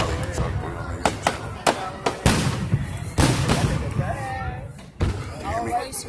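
July 4th fireworks burst in a rapid series of sharp bangs and deeper booms at varying distances, with voices of nearby spectators talking throughout.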